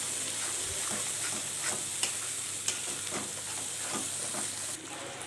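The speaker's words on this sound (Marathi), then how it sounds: "हे बघा अशा पद्धतीने छान असा मिक्स करायचा आणि 1 मिनिट परतून घेऊया आपण याला" Chana masala spices sautéing in oil for a wedding-style chole curry, a dense continuous sizzle close up with soft, irregular stirring scrapes throughout.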